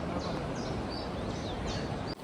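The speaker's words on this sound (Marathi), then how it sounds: "पक्ष्यांचे आवाज येत आहेत." Birds chirp and call in short, repeated bursts on a cloudy morning in Ladakh, fairly faint over a steady outdoor background hiss, with no one talking.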